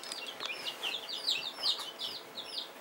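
A black rooster gives a run of short, high, chirpy clucks, close and fairly clear over quiet surroundings.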